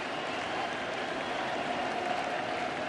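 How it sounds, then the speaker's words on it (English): A baseball stadium crowd at Game 3 of the 2019 World Series between the Astros and Nationals, with a dense, steady roar of cheering and clapping spread evenly and sustained throughout, no voices standing out. "Crowd trying to help Fernando Rodney along to get this out."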